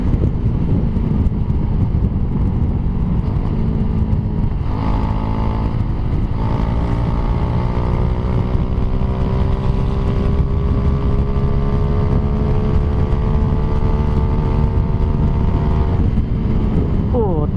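Motorcycle engine on a charity group ride, pulling hard after a shift into third gear, its rising harmonic whine climbing steadily under wind rush, with someone talking over it throughout.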